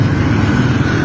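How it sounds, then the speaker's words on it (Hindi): Buses roll along a road in Azad Kashmir during protests, a dense, steady low engine rumble close by and continuous through the brief moment, with no voices. "अभी पीछे भी और बसें भी आ रही हैं"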